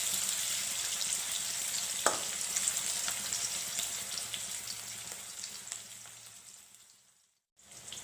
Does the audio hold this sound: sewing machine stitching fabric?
no